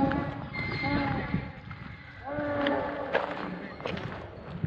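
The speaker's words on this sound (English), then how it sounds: "That's a donkey." A donkey walks among ancient stone ruins at Petra in southern Jordan, its hooves clip-clopping in a loose rhythm close by while people talk throughout.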